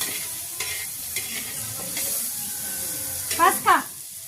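Chili and garlic sautéing in a pan for a traditional Ayurvedic vegetable dish, a close steady sizzle broken by several spatula scrapes, with two louder scraping strokes near the end.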